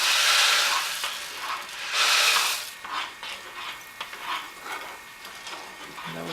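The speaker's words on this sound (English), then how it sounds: "add in my rice until I feel enough resistance." Rice being stirred into a pan of spicy chicken marinara, with scraping, rustling swirls and soft clicks of a spoon against the pan, loud strokes at first and then lighter, irregular movements.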